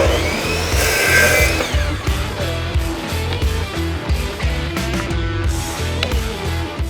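Freshly sharpened hand saw with a newly brazed tooth cutting pieces of wooden window trim, a steady rhythmic rasping of strokes close by that carries on without pause for the whole stretch.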